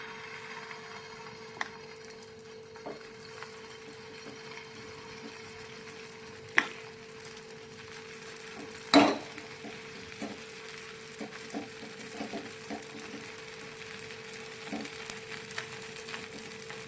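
Batter for a puffed-rice snack sizzling in a pan over a medium gas flame, a soft steady frying hiss with a few sharp knocks and scrapes of a spoon, no talking.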